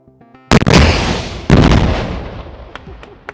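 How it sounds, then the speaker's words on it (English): An RPG and a grenade launcher fire into a quarry as two loud, sharp blasts about a second apart, each leaving a long rumbling echo that fades off across the open ground. "we're about to fire RPGs and grenade launchers"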